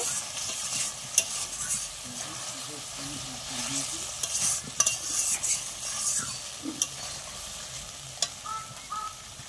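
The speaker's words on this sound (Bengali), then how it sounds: "একটু জল দিয়ে ভালো করে মশলাটা মিশিয়ে তারপরে আমি জল দেব" Cooked masala gets stirred in a pan after a splash of water, making a soft bubbling sizzle with irregular scraping and spoon knocks, fairly quiet and close.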